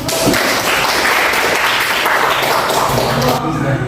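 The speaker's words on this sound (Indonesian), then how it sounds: "Kasih aplaus dulu untuk" Classroom applause, a dense continuous patter of many hands clapping together, loud and close throughout with no break.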